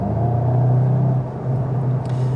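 Volkswagen Golf GTI MK8.5 engine giving a steady, loud low rumble with a brief dip midway, then continuing evenly close by with no talking.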